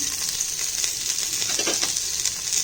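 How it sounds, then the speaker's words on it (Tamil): Whole spices and ginger garlic paste frying in hot oil for chicken fry, a steady, dense close sizzle with faint stirring underneath. "இப்போ போட்ட பொருட்கள்லாம் பொரிஞ்சிருக்கு இப்போ வந்து இஞ்சி பூட்டு பேஸ்ட்டு இதில் போட்டுடலாம்"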